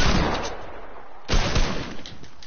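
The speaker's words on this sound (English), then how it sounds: "why are you shooting at me?" Gunfire from a video game, a dense run of loud rapid shots in heavy bursts filling the whole stretch, with a brief lull and then a fresh barrage, close and harsh with no talking.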